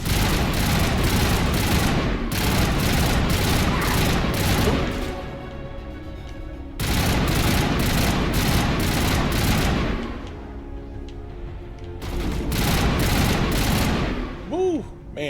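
Rifle gunfire from the video game Mass Effect Legendary Edition: three loud bursts of rapid automatic fire, each lasting about two seconds, separated by short pauses filled with softer game sounds.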